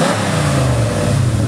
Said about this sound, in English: a quick startup, couple quick revs of the Comet that we just got in